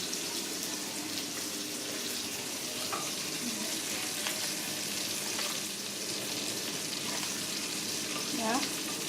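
Steady sizzling and frying of butter in a hot pan, fairly quiet and continuous, with a few faint clinks and scraping sounds.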